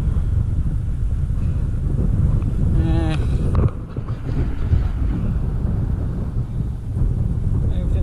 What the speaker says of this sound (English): the wind isn't too bad.